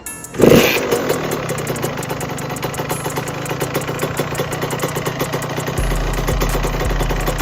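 A two-stroke dirt bike, a 125 or 85 class, is kick-started outdoors. The engine catches with a loud burst, then settles into a fast, pulsing idle that runs close and continuous, with no voices.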